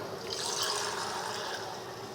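Water pours steadily into a pot of spiced arvi (taro root) curry with green chilies, a soft, continuous trickling splash close by and without speech.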